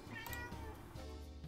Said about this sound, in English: I heard the cat meow.